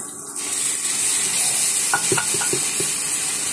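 Canned Century tuna stirred into a pan of onion and garlic, sizzling steadily with a few soft utensil scrapes and taps near the end, close and fairly loud with no talking.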